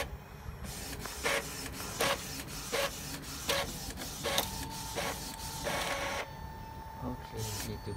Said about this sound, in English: Okay, need to processing for the printer.